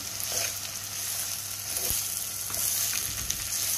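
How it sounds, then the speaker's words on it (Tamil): Beetroot and onions sizzle steadily in a pan for a Jaffna-style Sri Lankan beetroot curry, with a few soft scrapes and clicks from stirring over the continuous close frying hiss. "நல்லா கிளறி விடுங்க அப்போ தான் கீழே வெங்காயத்தோட எல்லாத்தோடையும் சேர்ந்து இது மிக்ஸ் ஆகியிருக்கும்"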